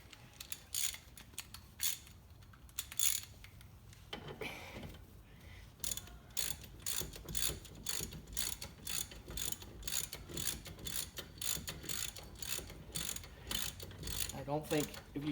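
A ratchet wrench clicks rapidly on the rear brake caliper bolts of a 2016 Honda CR-V, with dense bursts of close metallic ratcheting and a brief pause between sets.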